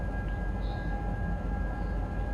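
A DB BR 145 electric locomotive in Train Sim World 6 on the Kinzigtalbahn, a steady low rumbling drive with a faint constant electric whine, continuous and fairly quiet.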